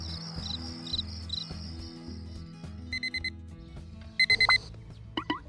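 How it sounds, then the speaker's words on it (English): A ringing alarm clock goes off in the early morning, its bursts of high trilling repeating over a steady background melody, with a louder burst of ringing near the end. "The next morning, when the alarm clock rings, breaking the early morning silence, Lily immediately gets up."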